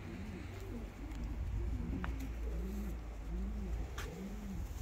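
Pigeons cooing repeatedly inside a coop, a steady series of low rolling coos over a constant background hum, with no talk.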